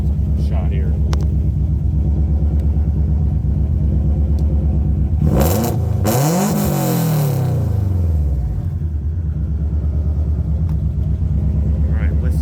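The exhaust of a 505 HP 2005 Subaru STI idles with a steady burble, then revs hard in a loud rising blast around the midpoint before falling back to idle.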